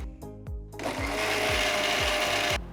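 A mixer grinder grinds tomato masala into a paste. A few short pulses are followed by a continuous loud, rough whirring roar that stops abruptly.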